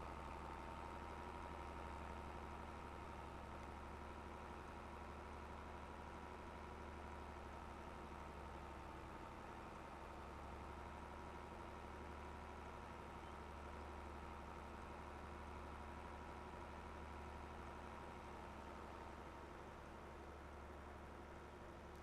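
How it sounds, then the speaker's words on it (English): Small tractor engine in Farming Simulator 22 labouring under a heavy load of bales, a steady low drone that holds constant and fairly faint throughout, with no speech. "This weight is a little bit much for this poor little tractor."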